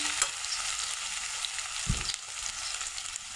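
Curry leaves, green chili and garlic sizzle in hot oil, a soft steady frying crackle with a brief stir or scrape near the middle, fairly close and quiet, with no talking.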